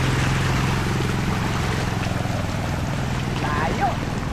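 Motorboat engine running steadily close by, a loud continuous throbbing drone with water noise throughout, people talking faintly over it.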